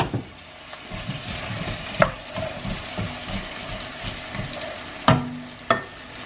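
Potatoes sizzle and crackle steadily as they sauté in butter in a pan, with occasional clinks and scrapes of stirring rising above the frying.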